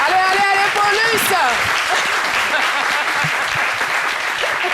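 Loud, dense applause fills a live midday television show studio as a guest is welcomed. A voice speaks briefly over the opening before the clapping carries on steadily to the end.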